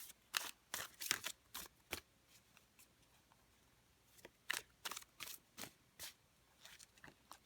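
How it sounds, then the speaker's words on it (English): A Bohemian Gothic Tarot deck is shuffled by hand, giving close, crisp bursts of card riffles and snaps in quick irregular clusters, with a short pause in the middle before the shuffling resumes. "let me just give you a quick shuffle so you can kind of see how that goes."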